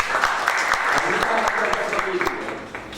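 A crowd applauds during a talk on diabetes, a dense, steady wash of clapping that fades slightly toward the end, with speech faintly mixed in.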